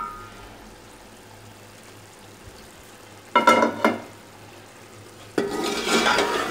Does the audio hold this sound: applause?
no